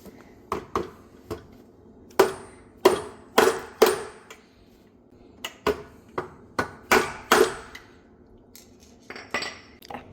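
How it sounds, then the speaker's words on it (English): Sharp metallic hammer blows ring out in irregular clusters, about a dozen strikes on a flathead screwdriver, close and loud with short pauses between. "you put it down and you hit it with a hammer"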